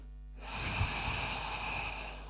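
A single slow, deep breath during a morning yoga session, a soft airy exhale rising after a moment of quiet, close and faint with no talking.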